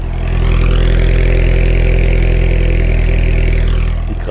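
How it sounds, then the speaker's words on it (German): A tuned 2020 Renault Megane RS Trophy R engine revs loud and close, climbing to a sustained high-rpm roar for a few seconds before dropping back off, with no talking over it. "Wenn du den Motor mal anlässt, einfach mal anlassen, dass wir den mal ein bisschen warm fahren."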